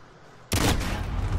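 Gunfire from a first-person shooter video game bursts in suddenly after a quiet moment, a loud, dense rattle of shots that keeps going to the end.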